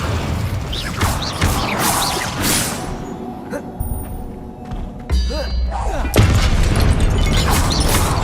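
Spells cast in Hogwarts Legacy, a run of magical booms, thuds and whooshing blasts in quick succession, with a voice shouting incantations over them.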